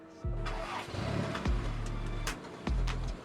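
Honda Grand Civic engine revving through a modified exhaust: three throaty blips in quick succession, each a rising low rumble that drops back, heard close and moderately loud.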